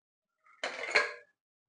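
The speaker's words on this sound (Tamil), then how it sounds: "அடுத்து மட்டனை சேர்த்துக்கோங்க" Mutton and chana dal tip into a small pressure cooker for mutton dalcha, with one short close metallic clatter and scrape in otherwise quiet surroundings.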